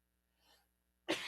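A single sharp sneeze bursts out loud and close at the end, after a faint breathy rustle during a late-night radio broadcast.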